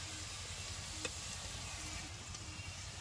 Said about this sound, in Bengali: তেলটা গরম হয়ে গেছে, এখন পিঠেগুলো ছেড়ে দেবো।